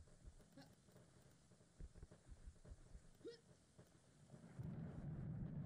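Rain in the PS1 horror demo game Spectral Mall, a faint steady patter with scattered low thumping drops, swelling into a louder rushing downpour near the end.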